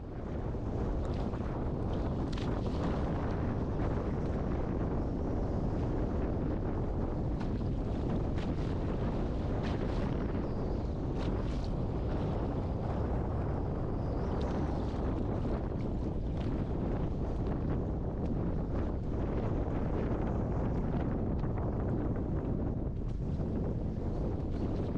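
Strong wind roars over the microphone while someone fishes from a pedal kayak on San Francisco Bay. The heavy, buffeting rush is loud and constant, with no voices heard.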